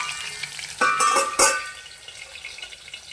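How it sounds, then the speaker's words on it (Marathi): Drumsticks (shevga) fry in oil on full gas in a village-style Marathi dish, with a steady close sizzle and two brief louder surges of crackling and stirring near the middle. "आपण याला फुल गॅसवरती फ्राय करून घेणार आहोत"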